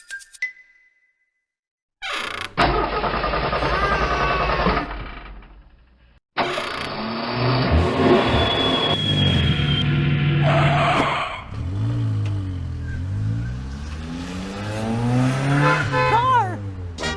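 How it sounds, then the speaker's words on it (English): A car engine catches after a brief silence and revs hard, rising and falling with tire squeals and skidding, loud and close over several seconds. "Car."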